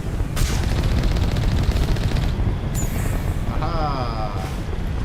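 Automatic turret gunfire in the Mass Effect Legendary Edition game, rapid repeated shots forming a dense loud rattle that runs most of the way through, with game effects and a voice talking over it.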